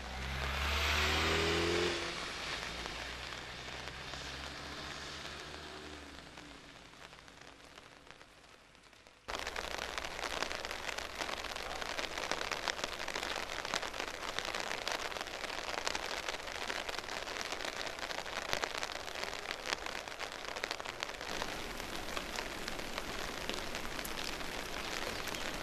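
Rain falling on flooded farmland sown with autumn crops, a steady dense hiss of drops that begins with a sudden jump in loudness partway through and then holds at an even level to the end, with no talking.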